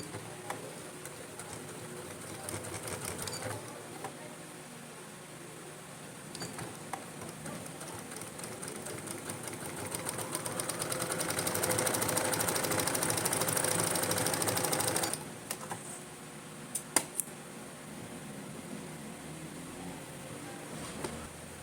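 A sewing machine stitching fabric for a namaz chadar runs steadily in the background, its whir swelling louder in the middle and then dropping, with a few sharp clicks near the end and no talking.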